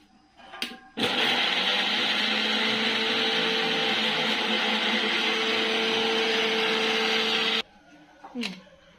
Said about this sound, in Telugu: ఇప్పుడు మనం ఫస్ట్ సారి మొట్టమొదటి అయితే పచ్చిమిర్చి మిక్స్ చేసుకుందామండి, పచ్చిమిరపకాయలు